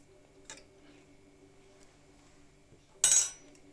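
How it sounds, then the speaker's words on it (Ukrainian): A soft tap, then a sharp crack of an egg against a hard edge, close and brief, in a quiet room. "розбиваю яйце"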